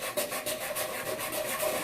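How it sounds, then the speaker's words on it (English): A rasp or file thins the wooden inner wall of a cigar box amplifier, giving a dry, scratchy stroke repeated several times in quick, even rhythm, close up and with no talking. "you might find that you need to take a file or a rasp of some sort and thin down this inner wall a little bit"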